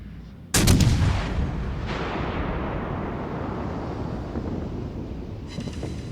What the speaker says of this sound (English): it was the gunfire of a Yamato